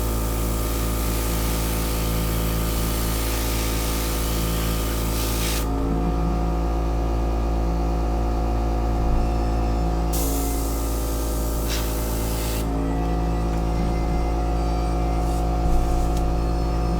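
An airbrush sprays air over a painted miniature in steady hissing bursts, with short pauses between passes and a constant low motor hum underneath.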